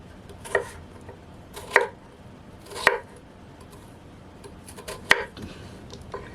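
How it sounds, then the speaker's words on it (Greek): A knife cuts potatoes into cubes on a board, with four or five separate, fairly sharp chops spaced about a second apart, close by and with no talking. "Κόβουμε σε κύβους."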